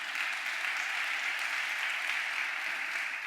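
An audience at a live conversation event applauds and cheers, a dense, steady wash of clapping at even loudness for several seconds.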